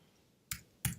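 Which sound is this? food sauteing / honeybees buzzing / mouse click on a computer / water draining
mouse click on a computer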